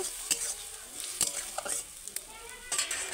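Prawns are sautéed with spices in a pan for a banana stem curry: a soft sizzle broken by repeated sharp scrapes and clinks of a spatula, close and uneven in rhythm.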